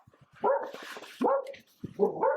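A dog gives three short, high barks spaced out over a couple of seconds, fairly close and clear with little else around.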